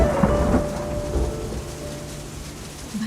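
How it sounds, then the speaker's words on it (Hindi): Deep rolling thunder rumbling through a night rainstorm, loud and sustained with steady rain hissing throughout and a few heavier rumbles swelling and fading. "रात भर आसमान में बादल गरजते रहे"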